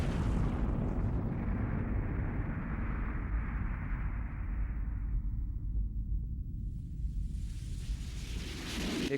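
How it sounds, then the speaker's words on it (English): A massive explosion from the Mega Man 8 intro, a long sustained roaring rumble that fills the low end, fades its bright crackle midway, then swells with a rising hiss near the end, loud and continuous without speech. "causing a massive explosion"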